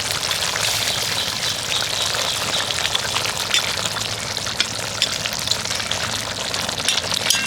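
Fried lote fish slipped into simmering gravy and gently stirred, a steady close sizzle with watery bubbling and soft splashing throughout, no voices.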